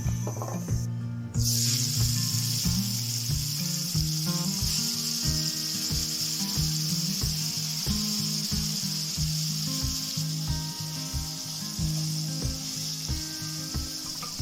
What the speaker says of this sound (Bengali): মাছগুলোকে আমি একটু হালকা করে ভেজে নেব।